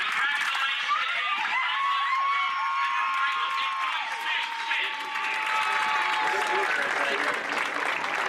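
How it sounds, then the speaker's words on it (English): A crowd at a high school varsity football game claps and cheers, sustained applause filling the whole stretch, with overlapping shouts and a few voices rising above the clapping. "let's give another round of applause to Pratt High School for this great achievement"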